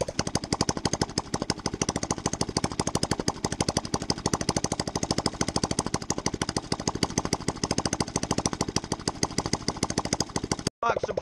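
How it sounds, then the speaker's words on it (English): An Apollo 125cc motorcycle engine running without a muffler after months sitting in the cold, a loud, rapid, evenly pulsing unmuffled bark that holds steady close by, then cuts out briefly near the end. "after months of this bike sitting here in the cold, without muffler, without the pop, without everything working functionally, it cranks up and it runs"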